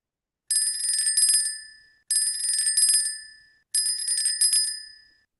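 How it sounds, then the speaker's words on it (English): Three bright, ringing bell bursts, each a rapid trill lasting over a second that fades out, evenly spaced and alone against silence. "we just got a bell to ring"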